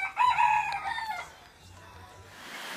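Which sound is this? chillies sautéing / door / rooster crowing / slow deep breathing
rooster crowing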